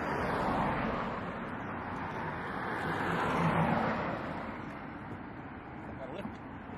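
A Nissan 240SX drift car with an LS V8 swap and T56 gearbox runs in a loud, steady engine drone with a slight swell partway through, heard close up.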